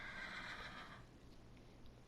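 A horse in the Minecraft video game lets out a loud, shrill whinny that fades after about a second, leaving faint quiet game background.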